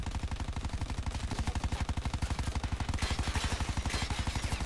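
Rapid automatic gunfire in Black Ops 4 Prop Hunt, a loud, steady machine-gun rattle of closely spaced shots running without pause throughout, with no talking over it.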